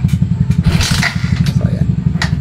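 A Suzuki Raider J FI motorcycle with no battery fitted is kicked over repeatedly, giving a close, steady mechanical chugging and clattering rhythm that never catches and runs.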